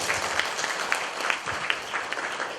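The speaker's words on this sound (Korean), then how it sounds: "우리 박수 한번 세게 쳐봅니다" Steady, dense applause from residents gathered at a neighborhood redevelopment briefing in Yongsan, a continuous wash of many hands clapping at even loudness throughout.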